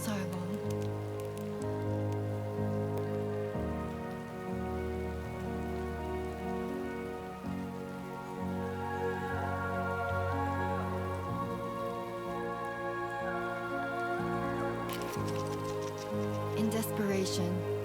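Timefall rain in Death Stranding 2 falls as a steady, even patter throughout, mixed with sustained music and a voice speaking over it.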